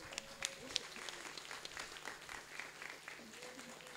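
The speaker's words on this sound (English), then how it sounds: "please join me in giving all our winners a warm round of applause again" A warm round of applause for award winners at an international legal conference, heard as a faint, scattered patter of clapping from a hall audience with a voice briefly audible.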